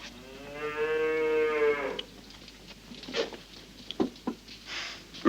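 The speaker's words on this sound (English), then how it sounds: "Relax, stranger. It's only my cow." A hungry cow gives one long, drawn-out moo up close, followed by faint scuffs and thumps.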